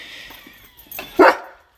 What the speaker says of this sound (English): So he's barking at us.